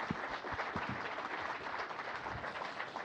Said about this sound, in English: let's give Scott a big round of applause